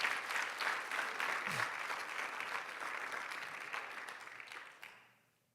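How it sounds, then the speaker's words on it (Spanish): Congregation applauding during a church sermon, a steady wash of clapping that fades out near the end. "Un aplauso al Señor"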